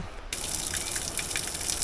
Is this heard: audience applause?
no